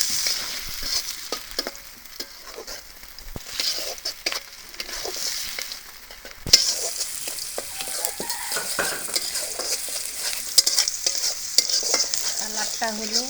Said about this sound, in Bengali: বাদামি রং করে ভাজা লাগবে।